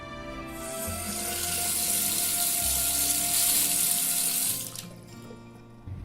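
A lemon being rinsed under a running kitchen tap, a steady close hiss of flowing water that fills several seconds, then cuts off before a faint trickle resumes.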